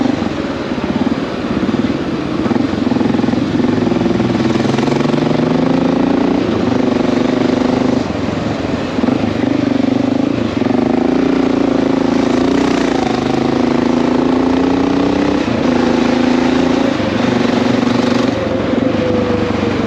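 Honda XR650L motorcycle riding through New York City streets on 2nd Avenue, a steady engine drone with rising and falling pitch as it shifts and accelerates, loud and continuous with traffic noise around.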